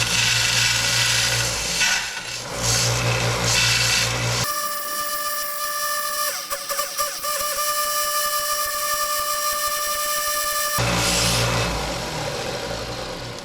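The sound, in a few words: belt grinder rounding edges of a mokume gane ring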